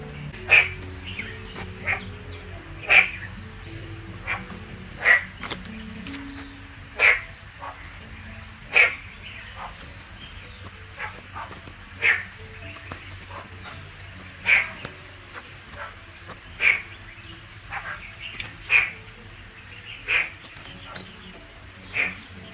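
Insects at Queen Sirikit Botanic Garden in Mae Rim, Chiang Mai, keep up a steady high whine, with sharp chirps repeating roughly every two seconds. The sound is fairly soft and somewhat distant, and no one talks.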